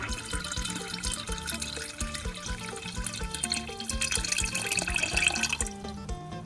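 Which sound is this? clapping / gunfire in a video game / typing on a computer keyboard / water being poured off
water being poured off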